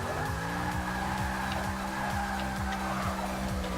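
A car engine revs hard in the racing video game Forza Motorsport 6. It gives a loud, sustained buzzing drone that repeatedly climbs and drops in quick cycles, with tire squeal mixed in and no talk.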